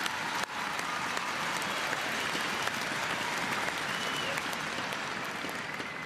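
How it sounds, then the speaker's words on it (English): A tournament crowd breaks into applause in a hall, a dense, even wash of clapping that holds steady the whole time and trails off slightly at the end, with no talk over it. "let's give them a round of applause"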